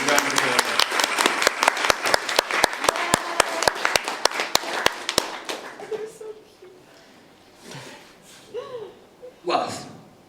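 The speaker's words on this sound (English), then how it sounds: "There's a round of applause." Audience at a furry convention giving a round of applause, a quick run of sharp, fairly close claps that fades after five seconds into murmuring voices and talk.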